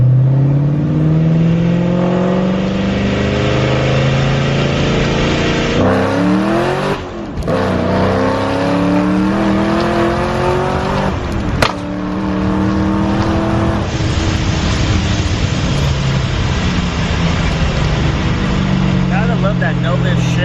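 A straight-piped Mustang with a Procharger D1SC supercharger, camshafts and open headers through Pypes exhaust cutouts revs hard and loud, repeated rising blips and roaring pulls crackling close by, with brief cut-offs between rips.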